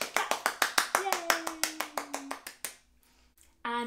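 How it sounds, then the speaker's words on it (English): Rhythmic clapping during a seaside-themed interactive children's music session, about fifteen sharp claps in a lively steady beat over a fading held tone, then a brief pause before a voice comes in at the end. "Give yourselves a really big clap."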